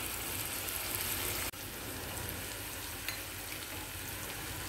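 Onions frying in a pan for a bottle gourd fry, a continuous loud even sizzle with one brief dip and a faint click partway through.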